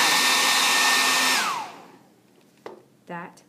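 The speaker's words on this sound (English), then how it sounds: "Here's my hair dryer. I'm going to put it on my low setting, then my high setting" A hair dryer runs on its high setting, a loud steady whoosh with a motor whine that cuts off after about a second and a half, followed by a couple of faint clicks and rustles in the quiet.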